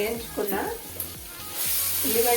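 Onions frying in hot oil in a pan for a gravy give a steady, fairly close sizzle that swells louder toward the end, with a low voice-like tone murmuring faintly underneath.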